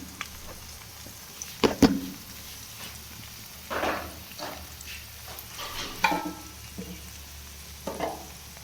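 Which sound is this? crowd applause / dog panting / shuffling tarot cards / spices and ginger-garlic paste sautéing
spices and ginger-garlic paste sautéing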